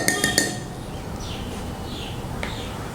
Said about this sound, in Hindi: और इसको अच्छा से स्टिर करूँगा ताकि सॉल्ट मिक्स हो जाए।